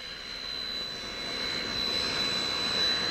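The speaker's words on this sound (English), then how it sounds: "they travel with their own jet" Led Zeppelin's private jet at Tampa International Airport produces a steady, continuous engine roar that swells slightly toward the end, heard alone without voices.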